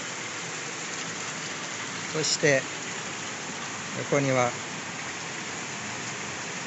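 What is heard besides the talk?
rain falling at an outdoor hot spring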